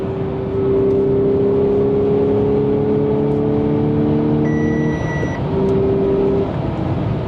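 A 2016 Audi S5 with a manual gearbox and a Stage 3 clutch drones loudly from inside the car through a curve in fifth gear. The steady engine tone drops and shifts pitch as it downshifts, with no speech.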